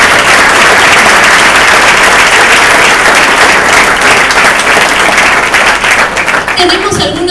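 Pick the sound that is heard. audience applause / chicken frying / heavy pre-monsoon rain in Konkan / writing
audience applause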